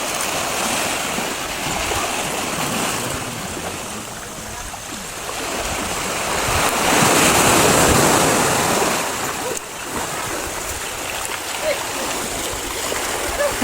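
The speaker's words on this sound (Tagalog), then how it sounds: "paminawan ninyo ang iyahang natural na tingog sa beach waves og ang iyahang tingog sa nature" Beach waves wash steadily onto the shore at Costafba Beach Resort on Talicud Island, a continuous broadband rush of surf that swells a little toward the middle and carries on without pause.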